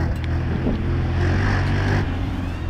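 A four-turbo BMW M550d diesel drones steadily from inside the cabin, its low engine hum continuous and moderately loud with some wind noise.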